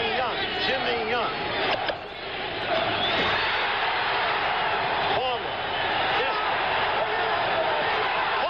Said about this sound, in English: Listen to the crowd now. They picked up the chant again.